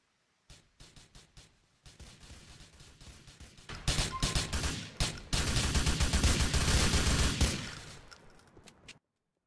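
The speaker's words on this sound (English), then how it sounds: "Shots fired. Audible. Okay, they're firing on officers." Gunfire in GTA IV during a police emergency response standoff: scattered single shots, then dense, rapid bursts of sustained automatic fire, loud and close, trailing off at the end.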